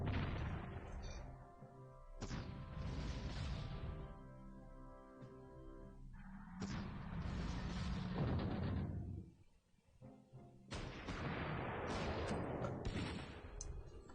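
Artillery fire in the Panzer Corps strategy video game: several loud, booming blasts arriving one after another, each with a crashing attack and a long ringing decay, with short pauses between them.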